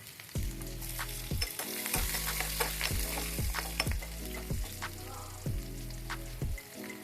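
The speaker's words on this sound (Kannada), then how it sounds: "ನಂತರ ಕಟ್ ಮಾಡಿಕೊಂಡ ಈರುಳ್ಳಿಯನ್ನು ಹಾಕಿಕೊಳ್ಳಿ." Peanuts and chopped onions sizzle in hot oil in a pan, with a steady frying hiss broken by repeated scraping strokes of a stirring spoon against the pan.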